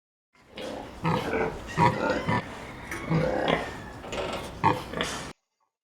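Pigs grunt and snort in rough, irregular bursts close by, a steady run of low guttural noises with brief gaps, on a farm where a lorry carries livestock.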